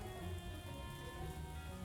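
Steady rain patters and hisses across surfaces in the game Mon Bazou, a soft, even wash of drops heard alone without any talking.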